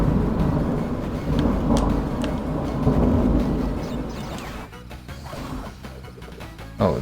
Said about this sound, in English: Another thunderclap is coming at some point.